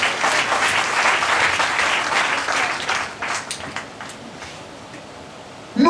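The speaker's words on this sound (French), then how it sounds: "acclamez le Seigneur pour vous." A church congregation applauding the Lord during a night vigil, with sustained dense clapping that fades toward the end, leaving a quieter background.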